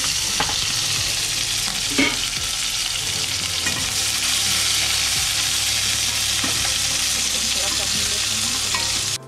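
Green and red chilies with chopped onion frying in hot oil for sambhar, a steady loud sizzle with occasional stirring clinks, close and continuous throughout.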